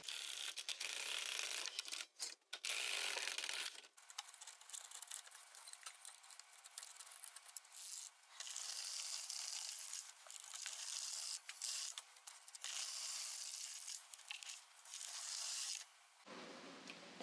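An LK150 knitting machine carriage sliding across the needle bed to knit rows of a lacy scarf on an E-wrap cast-on, giving repeated bursts of close mechanical clicking and rattling separated by brief pauses, with no talking.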